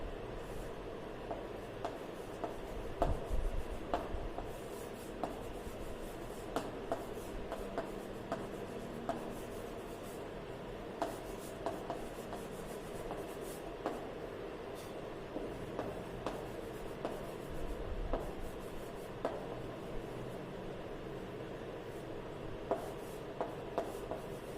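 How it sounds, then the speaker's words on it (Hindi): Pen or marker scratching across a writing surface during a lesson, with soft intermittent strokes and small taps repeating steadily over a quiet room tone, no voice heard. "और कुछ वर्ड लिखता हूं यहां पे मैं"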